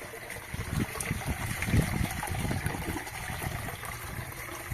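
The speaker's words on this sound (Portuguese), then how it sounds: "A água vai continuar caindo por um tempinho" Water keeps trickling from a lowered pipe into a goldfish tank after the power is off, a close, continuous dribble with small splashes and no voices.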